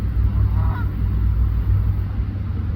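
Geese honk on open water, one short honking call near the middle heard over a steady low rumble of traffic or wind.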